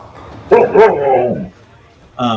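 A dog woofs and yips in a quick burst of two or three loud, close barks, followed by a brief whimpering tail and another short bark at the end, in an indoor setting.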